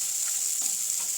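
Brinjal pieces fry in hot oil in a pan alongside potato and carrot, giving a steady, bright sizzling hiss that runs unbroken and fairly close.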